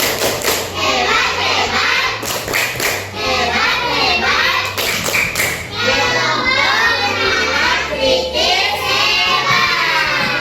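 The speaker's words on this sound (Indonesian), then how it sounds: "kasih dulu tepuk hebat untuk kelompok bernalar kritis" A classroom of children performs a rhythmic "tepuk hebat" group clap for a team, loud chanting voices with bursts of synchronized claps and thumps, close and energetic throughout.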